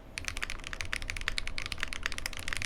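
Typing on a Helix Lab Aaru65 keyboard with a CNC-machined case, heard as quick, continuous, fairly crisp keystroke clicks and clacks in a fast irregular rhythm, close and alone with no talking.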